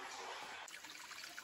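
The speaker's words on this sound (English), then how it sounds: "And as for our creek, running beautifully." Creek water on a rural property runs and trickles steadily close by, a continuous broadband rush with a slight shift in texture partway through.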